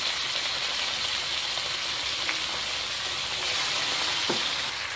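Chicken pieces fry with garlic in a pan for chopsuey, giving a steady, loud sizzle throughout with a few soft stirring clinks, and no voices.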